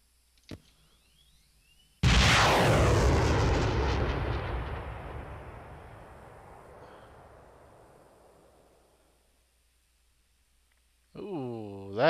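A tank gun fires at infantry in the combat simulator Steel Beasts Pro: one loud, close cannon boom after a faint click, rolling away in a long echoing decay, followed by a brief tonal sound near the end.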